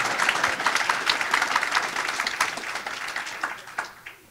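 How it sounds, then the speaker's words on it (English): Crowd at a talk on Palestine breaking into sustained applause, dense steady clapping from a large audience that holds level for several seconds before thinning out at the end. "you clap for that"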